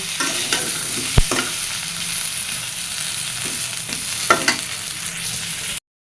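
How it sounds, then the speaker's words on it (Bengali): Potato and pointed gourd frying with salt in a pan, a continuous close sizzle broken by a few sharp clacks and scrapes of stirring. "লবণ, দিয়ে ভালো করে আলু পটল ভেজে নিব।"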